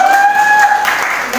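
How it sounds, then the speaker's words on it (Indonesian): Applause from a student audience at a high school student council candidates' debate in Depok, a steady clapping wash heard throughout, with a faint voice over it. "berikan tepuk tangan dulu untuk"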